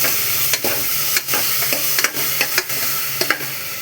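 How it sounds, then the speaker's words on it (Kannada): Tomatoes frying in oil in a pan for Mandya-style palak pappu, with a steady sizzle broken by a series of sharp spatula scrapes and knocks as they are stirred, close and loud, no talking. "ಟೊಮೊಟೊನ ಹಾಕಿ ಚೆನ್ನಾಗಿ ಫ್ರೈ ಮಾಡಬೇಕು"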